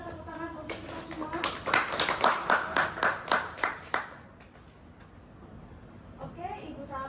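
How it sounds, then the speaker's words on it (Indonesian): A school class claps together in a classroom, about a dozen sharp, evenly spaced claps in a steady rhythm that stop abruptly, followed by quiet room tone and a faint voice. "Mari kita tepuk tangan untuk kita semua"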